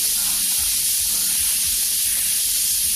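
An airbrush spraying paint with compressed air, a continuous bright hiss held close and loud for the whole stretch, with a faint low rumble underneath.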